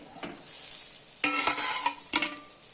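Bharangi greens being stirred and sautéed in a pan, a soft sizzle under a few scraping spoon strokes against the pan.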